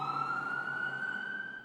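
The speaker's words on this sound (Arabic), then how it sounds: "ها قد أتت سيارة الإسعاف مع مريض جديد" An ambulance siren sounds at a hospital, a steady sustained wail with a slowly rising tone, continuous and fairly loud.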